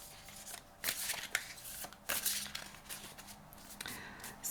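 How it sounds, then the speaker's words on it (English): A deck of anime tarot cards is shuffled close up in quiet, soft-spoken ASMR style, giving a series of crisp riffling bursts and light card flicks separated by short pauses. "I give this a shuffle and see."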